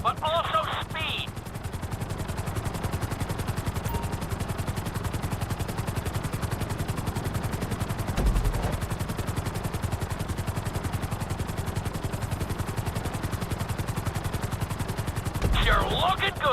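Helicopter in the video game GTA 5 flies a course with a fast, steady rotor chop that stays loud and even throughout, with brief electronic interface tones at the start and end.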